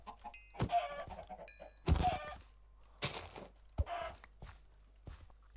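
Several short bursts of chicken clucking from a Minecraft modpack video game, with brief quiet gaps, some soft thuds and steps mixed in.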